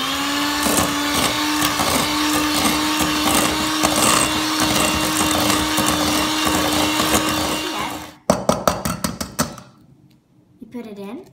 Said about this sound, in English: get the hand mixer and you can start mixing